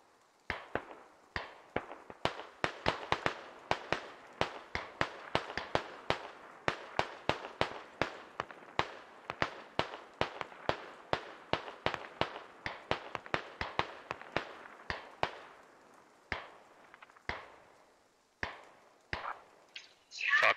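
Sustained automatic rifle fire from an AR in the Squad military shooter game, a long run of sharp, loud, closely spaced shots in bursts with brief gaps, continuing steadily.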